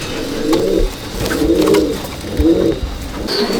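Pigeons in a racer and breed loft in Madhyamgram give steady, throaty rolling coos, three or four close, loud phrases repeating at an even pace with no talk over them.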